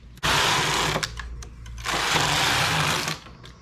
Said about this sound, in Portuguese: Teço o acabamento na largura que eu quero.